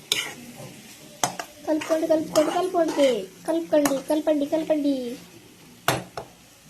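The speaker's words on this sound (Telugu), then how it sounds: "ఎగ్స్ వేసుకున్న తర్వాత మిక్స్ చేసుకోవాలి." Eggs are mixed into batter in a bowl, with a spoon clinking and scraping against the sides in short bursts while a voice talks over much of it.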